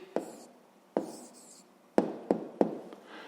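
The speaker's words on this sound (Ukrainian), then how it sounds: "Записуємо відповідь." A pen writing an answer by hand on paper makes a handful of short, close scratching strokes, each starting with a tap and fading quickly, in a quiet room.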